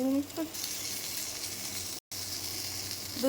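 Fish sizzles steadily as it fries in oil in a pan, a continuous hiss with a brief dropout, while a voice speaks faintly at the start.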